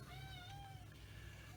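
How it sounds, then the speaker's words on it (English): A pet cat meows in a room where a 1/35 scale Meng Jagdpanther model kit is being assembled, a few drawn-out tonal meows over a steady low hum, fairly close and moderately loud, with no talking. "If you can hear that, that is my cat Bast."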